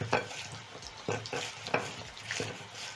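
Potatoes frying in hot oil, heard as a steady broadband sizzle broken by several sharp bursts as pieces are stirred or shaken, with no speech.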